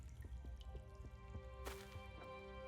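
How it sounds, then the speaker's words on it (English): Water drips in a cave ambience within a train-building video game, with repeated faint plinks over a steady low background hum and one brighter splashy burst midway. "We've got lots of running water, dripping water, cavey sound effects"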